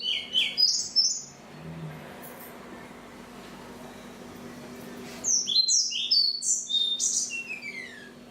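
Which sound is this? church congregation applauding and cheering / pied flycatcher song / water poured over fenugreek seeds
pied flycatcher song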